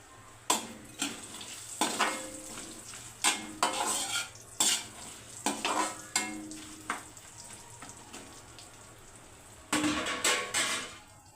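A spoon stirs raisins in a hot pan. Close scraping clinks come about once a second over a faint background sizzle, with a brief pause before a final flurry of strokes.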